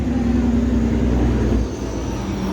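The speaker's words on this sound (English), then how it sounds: "Big truck traffic there." Heavy truck traffic passing nearby, a steady low rumble of engines that eases off toward the end, heard without talk.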